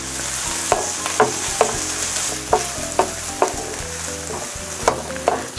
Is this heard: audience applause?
no